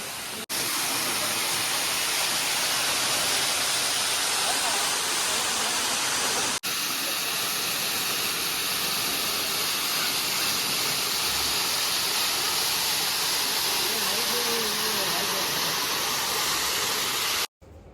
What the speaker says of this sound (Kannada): ನೋಡಿ ಹೇಗೆ ಬೀಳ್ತಿದೆ ನೀರು ಅಂತ ಮೇಲೆಯಿಂದ